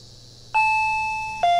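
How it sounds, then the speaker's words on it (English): Doorbell at a house's front door ringing in two electronic tones, the first sustained and slowly fading, the second following a second later, loud and close over a quiet room. "When I approached the front door, the doorbell rang."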